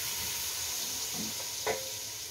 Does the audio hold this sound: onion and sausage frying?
yes